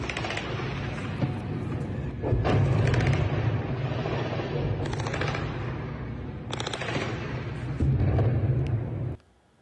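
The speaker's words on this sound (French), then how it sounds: "plusieurs coups de feu tout près du plus grand hôpital de la bande de Gaza" Gunfire at night near al-Shifa hospital in Gaza: repeated sharp cracks and bursts, some in rapid runs, over a dense, loud rumbling background that goes on without a break. The sound cuts off abruptly at the end.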